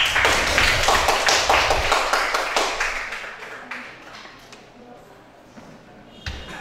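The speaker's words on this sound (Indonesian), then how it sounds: "Terima kasih, tepuk tangan." Classroom audience claps at the end of a teaching session, a lively burst of many hands that fades over a few seconds, followed by quiet with a late single knock.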